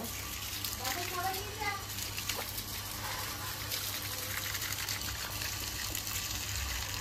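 A tap runs steadily as water is poured out for garden plants, a continuous rushing gush with a faint trickle, while people talk quietly over it.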